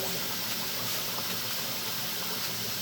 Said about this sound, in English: She's going to leave the faucet running